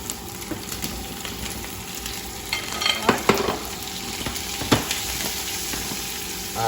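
Seasoned potatoes frying with garlic in a pan, a steady close sizzle broken by a few louder scraping stirs and clatters, with no voices.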